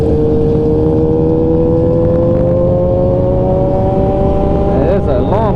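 A loud, close engine drone from a group of motorcycles rolling together on the road, steady throughout with a shifting pitch, with a rider talking over it.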